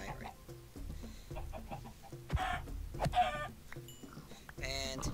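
Chickens clucking in the video game Minecraft, short repeated clucks and croak-like animal calls mixed with other game sounds and background music, fairly steady and moderate in level.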